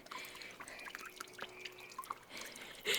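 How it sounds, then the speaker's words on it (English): Water drips and trickles in scattered irregular drops after power washing 20 years of algae off a surface, faint and close with occasional louder splashes near the end. "There's a lot of dripping sounds."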